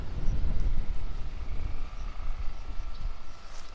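Steady wind buffets the microphone in an open field in Gönen, Turkey, with a low, rumbling roar that rises and falls for several seconds, with no voices.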